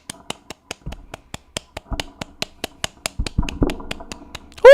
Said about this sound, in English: Clap sound effect.